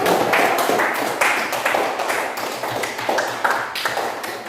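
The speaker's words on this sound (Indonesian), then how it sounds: "Oke, kita tepuk tangan." A classroom of students claps hands together in an Indonesian school lesson, a steady rhythmic run of sharp, close, fairly loud claps that keeps an even beat for several seconds.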